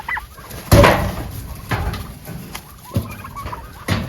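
Domestic turkeys in a farmyard giving several short, sharp clucks spaced irregularly over a few seconds, close by, with no talk.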